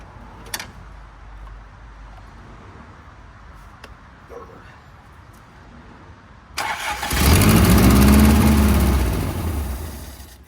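An abandoned Toyota TE72 liftback, fed from a makeshift gas tank, cranks briefly after quiet clicks and then fires into a loud, rough, running engine roar up close.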